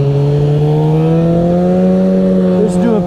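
A trail vehicle, a 2021 Riot X or 2013 High Country, drives lake trails with sway bars disconnected, giving a steady close whining drive tone that rises slightly in pitch, continuous and alone.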